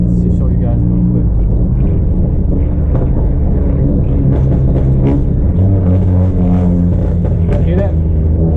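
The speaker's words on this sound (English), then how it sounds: "when you downshift, how to make the car pop" A 2018 Honda Accord engine with a burble tune rumbles loudly and close, with sharp crackling pops from the exhaust as it downshifts, while someone talks over it.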